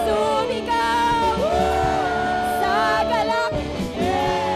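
A large crowd at a praise and worship event shouts, whoops and yells together in a loud, continuous roar, with raised voices layered over one another throughout.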